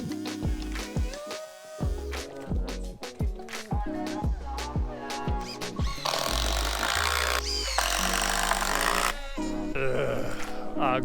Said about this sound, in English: we got to work cutting it with the chainsaw